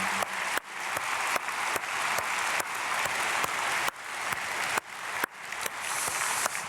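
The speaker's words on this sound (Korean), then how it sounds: "박수로 축복하겠습니다." A church congregation claps together for a couple being blessed, a dense and steady wash of applause filling the room for several seconds with no one speaking over it.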